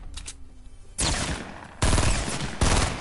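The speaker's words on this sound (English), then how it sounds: "someone's shooting me" In Fortnite, gunfire aimed at the player breaks in as a few loud, abrupt bursts of rapid automatic shots, each starting hard after a quieter stretch, close and harsh with no voices.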